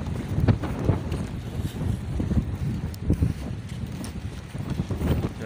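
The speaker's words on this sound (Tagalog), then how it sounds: "Sobrang lakas pa rin ang hangin." Strong Typhoon Odette wind buffets the microphone with a continuous low roar and gusty rumbling, no voices present.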